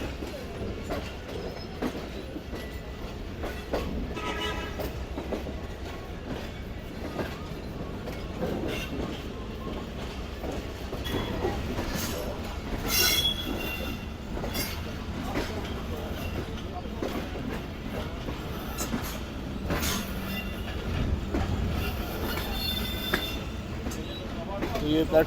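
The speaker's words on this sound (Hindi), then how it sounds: "तो ये प्लेटफॉर्म नंबर 4 पर लग रही है ट्रेन।" Karakoram Express pulling into platform 4 at a station in winter, a steady low rumble of rolling rail cars with faint clickety-clack and occasional squeals, continuous throughout, with people talking nearby.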